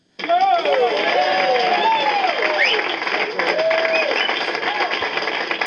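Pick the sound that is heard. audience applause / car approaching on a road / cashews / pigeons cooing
audience applause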